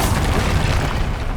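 A Confringo fire spell blast in the video game Hogwarts Legacy, one loud, dense, booming burst that fills the moment with a rumbling roar and no talking.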